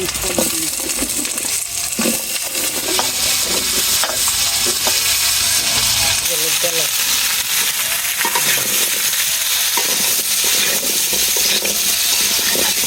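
Onions frying in a pan while being stirred, with a continuous hiss of sizzling broken by scraping and clinking stirs, close and steady throughout.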